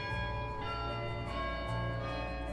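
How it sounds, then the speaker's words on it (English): Church bells ring continuously with a layered, sustained metallic tone, somewhat distant and soft, with no voices. "we heard a sound, church bells."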